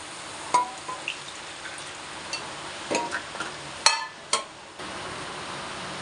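Water going into a hot pan of oil for cooking okra, with scattered drips and short bursts of sizzle against a quiet hiss.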